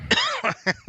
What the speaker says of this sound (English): So I clear my throat.